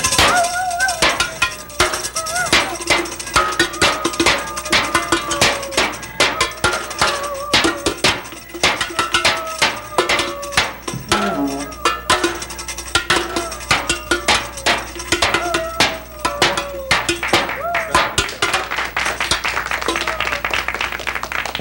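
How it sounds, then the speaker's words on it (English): An amateur kitchen band beats pots and pans as instruments, a dense, loud, continuous clatter of metallic bangs and ringing hits in rapid rhythm, with voices and cheering mixed underneath. "we started to beat the tar out of all of our pots and pans"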